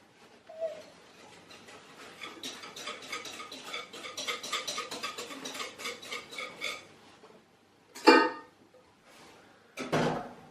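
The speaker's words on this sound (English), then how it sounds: "Whisk again. Whisk in. And then back in to the pan." A whisk clatters rapidly against a pan as vanilla soufflé mixture is beaten, a steady metallic rattle lasting several seconds, then a couple of louder knocks and scrapes as it is tipped back into the pan.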